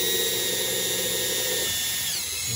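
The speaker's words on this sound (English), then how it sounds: "We're gonna drill a hole right through here." Steady high-pitched whine of a power drill running continuously, its pitch shifting slightly as it bores a hole through a 2020 Toyota RAV4 Hybrid part, loud and close.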